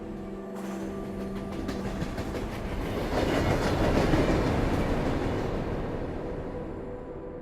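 A subway train rolls along the tracks with a steady rumble and rhythmic clickety-clack, swelling louder as it passes close by, then easing off slightly.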